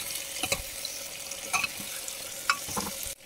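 Ginger-garlic paste and tomatoes being stirred in a pan of frying masala, with a steady soft sizzle and a few scraping strokes of the spoon, no voices.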